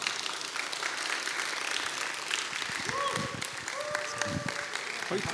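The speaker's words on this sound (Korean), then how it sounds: "우리 목사님 앞으로 모실 때 큰 환영의 박수로 우리 모시겠습니다" A congregation gives a steady round of welcoming applause for a pastor at a church training session, fairly distant and even throughout, with faint voices and a brief tonal sound mixed in.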